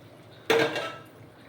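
Wheat semolina goes into boiling water on a low flame with one sharp clink against the pot, then a brief rustle that fades quickly.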